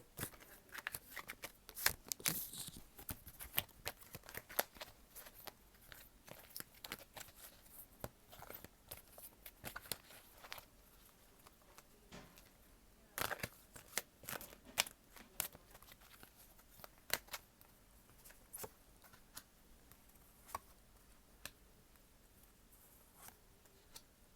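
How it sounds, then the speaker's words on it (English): Oracle cards are shuffled over and over, making soft riffling flutters and papery slaps at close range, quiet and continuous, with no voices. "I'm going to shuffle the oracle cards"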